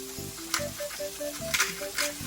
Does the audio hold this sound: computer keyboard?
no